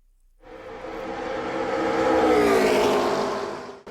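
A race car at a high-speed auto race roars past at close range, its engine note swelling loud and sweeping down in pitch before cutting off abruptly.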